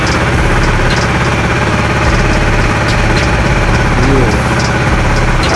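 A Honda RS150R motorcycle engine idles at high RPM, a loud, close, continuous rumbling drone that holds steady throughout.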